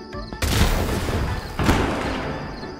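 Cartoon explosion booms, two loud, close blasts about a second apart, each followed by a rumbling tail.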